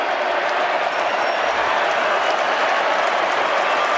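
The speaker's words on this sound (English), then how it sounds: "Crowd going berserk around the ground at the moment." Dense roaring crowd at an Australian football Western Derby between Fremantle and West Coast, a continuous loud wash of cheering and applause filling the stadium with no break.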